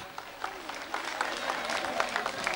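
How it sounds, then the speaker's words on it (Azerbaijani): Applause from an audience at a kindergarten event, a soft, steady patter of clapping that holds fairly even for a couple of seconds. "Alqışlar."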